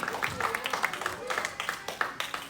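A church congregation gives rhythmic applause, irregular bursts of clapping mixed with a voice speaking over it throughout.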